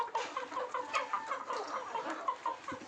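Desi gavran chickens raised from an incubator on a poultry farm cluck in quick, repeated close-up calls, a busy flock chattering without pause.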